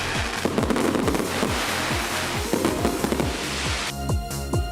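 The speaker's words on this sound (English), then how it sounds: "Introducing Code Breaker by Encrypted Fireworks. Unlock the sky." Code Breaker fireworks by Encrypted Fireworks going off: a dense, loud barrage of rapid crackling bangs and booming thumps that overlap continuously, then thin into sparse crackle at the end.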